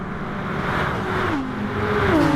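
A GTR race car engine in a sim racing endurance event at Circuit de St Croix drones loudly and steadily, its pitch dipping and then climbing again as the car shifts and accelerates.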